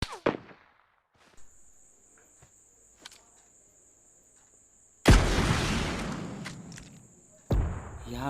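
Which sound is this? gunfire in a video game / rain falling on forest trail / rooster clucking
gunfire in a video game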